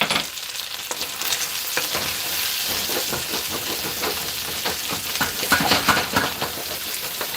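Rice and vegetables sauteing in a hot pan give a steady, close sizzle and crackle with occasional stirring scrapes, continuous throughout with no talking.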